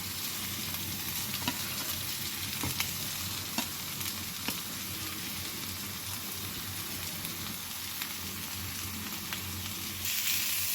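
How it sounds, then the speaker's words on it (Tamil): Carrots and beans sauté in a pan after onions for a healthy lunch, giving a steady, close sizzle and crackle throughout with occasional stirring clicks and no talk. "கேரட் பீன்ஸு நல்லா கொஞ்சம் நேரம் இப்படி வதக்கி விடுங்க."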